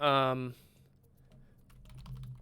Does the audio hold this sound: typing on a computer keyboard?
yes